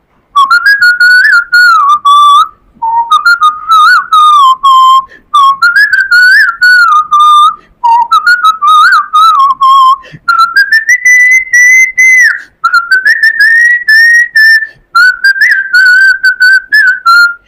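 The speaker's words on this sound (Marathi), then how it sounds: "मी शिट्टीतून गाणं म्हणून दाखवणार." A person whistles a song tune loudly and close, in clear melodic phrases separated by short breath pauses, with pitch gliding and trilling between notes.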